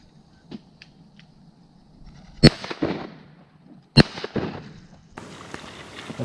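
Shotgun blasts fired at mallard ducks during a hunt from an ice hole: two sharp, loud bangs about a second and a half apart, each trailing a short echo, with quiet rustling and faint clicks in between.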